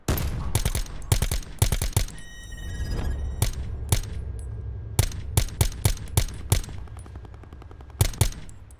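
Gunfire from Call of Duty: Black Ops 4, aimed at someone on a hilltop: loud clusters of rapid gunshots crack out in short bursts, then pause before more volleys, with no talking.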